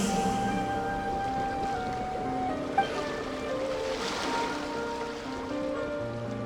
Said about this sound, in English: Go to where you can hear the sound of the waves.